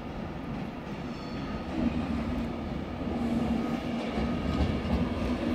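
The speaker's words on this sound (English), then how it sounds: "It's a Virgin Trains Pendolino." A Virgin Trains Pendolino, class 390, pulls into London Euston as a terminating service from Birmingham New Street, giving a steady low rumble with a faint tonal whine that swells slightly partway through.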